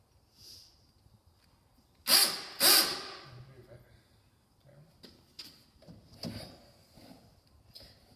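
A power drill bores into a wall during furniture assembly, giving two short, loud bursts close by, followed by fainter clicks and handling noises.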